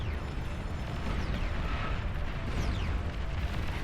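A Juggernaut unit explodes in the real-time strategy game Beyond All Reason, giving a dense, sustained rumbling roar of blasts and battle noise with heavy low end, steady and loud for several seconds.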